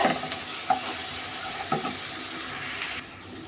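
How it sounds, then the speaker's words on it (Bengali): Onion, garlic, ginger and cumin paste sautéing in a pan, with a steady close sizzle and hiss and a few stirring clacks of the spoon, the frying easing slightly near the end; no voices. "এখন আমি পেঁয়াজ, রসুন, আদা বাটা, জিরা বাটা সব একসাথে দিয়ে দিচ্ছি। এগুলো একটু ভালো করে একটু কষিয়ে নেব।"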